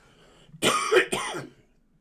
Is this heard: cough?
yes